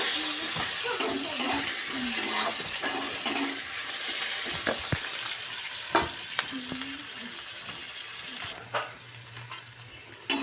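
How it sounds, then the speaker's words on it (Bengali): Onion sizzles steadily in hot oil while a spoon stirs it, with occasional scrapes and taps against the pan. "পেঁয়াজটাকে আমি খুব ভালো করে নাড়াচাড়া করে ভেজে নেব"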